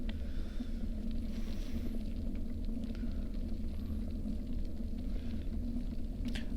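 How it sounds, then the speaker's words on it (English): A low, continuous rumble of road noise while riding the Katy Trail, steady and droning throughout with faint higher hiss and a few light ticks, no voices. "I'm going to make a video of just like a half hour of this road noise"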